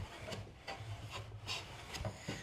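A Taylor Tools Bedrock hand plane shaves tulip poplar in a series of rhythmic rasping strokes, each a short swishing scrape, close up and steady with no voices.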